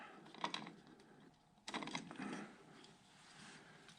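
Metal parts clink and scrape faintly as a clutch boss is pulled from a Yamaha motorcycle engine, in two short bursts of mechanical rattling at close range.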